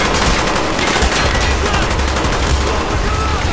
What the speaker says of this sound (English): Taking too much fire here.